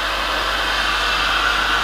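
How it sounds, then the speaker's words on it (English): Heat gun on low speed blowing hot air over drywall jointing compound texture on a sycamore bowl: a steady, close, continuous whooshing hum with no change in pitch, heard alone. "always be careful using a heat gun"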